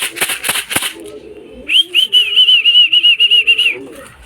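Racing pigeons at a loft flutter their wings in a few quick bursts, then a high repeated whistle-like note follows, close and fairly loud against a quiet background.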